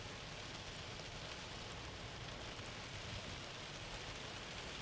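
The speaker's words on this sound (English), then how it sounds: "soaking rain and little hail" Heavy soaking rain pours steadily with a faint scattering of small hailstones, a dense continuous hiss at low level with no voices.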